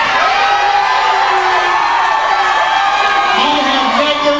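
Crowd at a live wrestling show in Reading cheering and shouting, a sustained noisy roar with whoops rising throughout, mixed with a loud voice talking over it.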